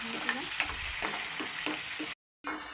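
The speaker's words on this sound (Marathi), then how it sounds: "टमॅटो आपण परतायचं, त्याला पण आपण कांद्यामध्ये असं मऊ करून घ्यायचं आणि नरम करून घ्यायचं पूर्ण." Tomato sautéing with already fried onion in a pan, a dense close sizzle broken by repeated stirring scrapes, then a brief cut to silence before the frying resumes; no talk.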